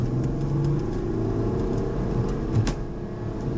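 A Porsche Macan S Diesel engine hums at a steady mid-range drone from inside the cabin, with mild swells in revs and a few faint knocks over the constant engine note.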